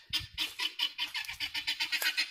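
A farmyard chicken clucks in a quick, steady run of about a dozen short clucks, close and clear, with no talk.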